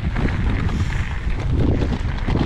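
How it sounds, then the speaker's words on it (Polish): Steady, blustery wind roars across a GoPro microphone while cycling along the Baltic coast, a low rumbling rush with gusty swells and no voices. "cały czas wiatr mi wieje w plecy. Dosyć duży wiatr."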